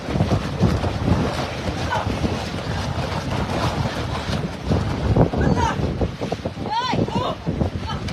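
Strong gusts buffet the microphone in a steady roar, with splashing water and scattered voices underneath, during a rainstorm in Oroquieta City.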